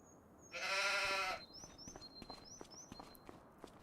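A single sheep in a farming video game lets out one clear, wavering bleat, followed by soft footsteps and faint interface chimes.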